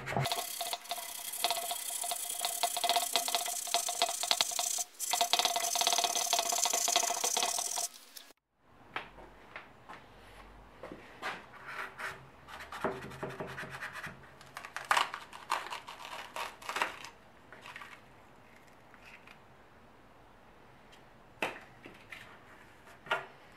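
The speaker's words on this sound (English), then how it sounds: "Just cut the foam with a little tiny saw." A small hand saw cutting through foam: about eight seconds of steady, close, hissy rasping, then quieter, scattered scraping and knocking handling sounds with no talk.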